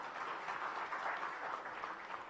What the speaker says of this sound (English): Once again, can we hear out a big round of applause for Mehul sir?